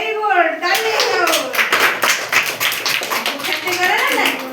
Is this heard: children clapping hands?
yes